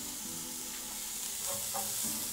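Garlic fries in a pan for carreteiro with a steady, soft sizzle and crackle, a few faint clinks of stirring near the end.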